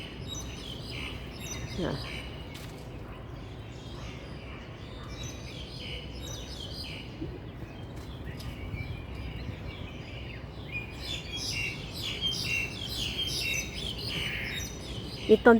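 Birds chirp and tweet in rapid, overlapping calls at Jumbo Pier in Wong Chuk Hang, Aberdeen, Hong Kong, set against a soft outdoor background hum, with a few sharper notes near the end.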